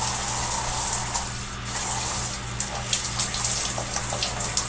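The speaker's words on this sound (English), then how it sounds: "Let's take a shower, Titan." Steady shower spray running in a video game, a continuous broadband rush of falling water with a low mechanical hum beneath it, close and even throughout with no speech.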